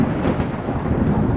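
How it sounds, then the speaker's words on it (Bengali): Thunder rolls as a loud, continuous low rumble, with a wash of rain-like noise mixed in throughout the short stretch. "বজ্রপাত হয় কিভাবে?"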